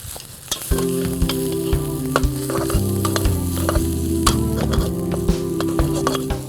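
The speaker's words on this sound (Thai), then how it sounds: "ส่วนผสมของเรา กับหมูผัดให้เข้ากัน" Pork belly stir-fries with chopped fermented fish in a hot pan, a loud continuous sizzle that swells after a scrape at the start, with repeated spatula clatters and scraping throughout.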